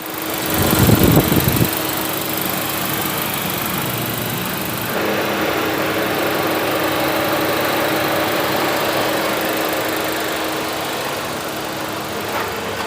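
A Hyundai Aura engine with over 50,000 km runs steadily at close range, a continuous droning rumble with a mechanical whine that holds level throughout.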